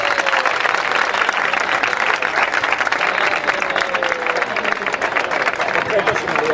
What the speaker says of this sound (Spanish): Fuerte el aplauso y le pido a Julián que suba al escenario.